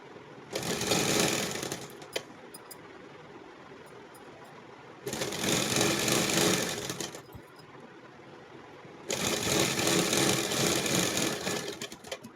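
A sewing machine stitches a plastic top in three bursts of a few seconds each, a loud rapid mechanical hum up close with quiet pauses between runs.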